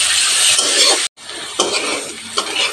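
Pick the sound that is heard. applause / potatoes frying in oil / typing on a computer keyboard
potatoes frying in oil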